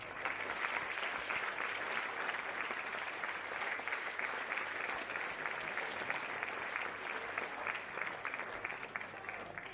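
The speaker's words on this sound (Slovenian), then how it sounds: "vsem skupaj lahko namenimo en velik aplavz" A crowd at a theatre play performance applauds with steady, sustained clapping that holds at an even level throughout without pause.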